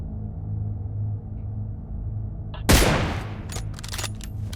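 One sharp, loud gunshot cracks out over a low background hum, followed by a few fainter pops and crackles, in the video game PUBG.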